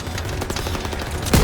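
Video game gunfire cracks out in a quick rapid burst of shots, close and loud, ending in a heavier blast.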